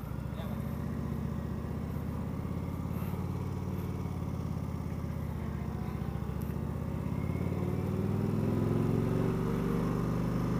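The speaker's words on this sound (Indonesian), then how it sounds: "motor yang gue lagi pakai sekarang. Jadi ini adalah Indian Vintage" An Indian Chief Vintage motorcycle being ridden, its engine a steady low rumble with rushing wind noise that swells slightly near the end, under continuous talk from the rider.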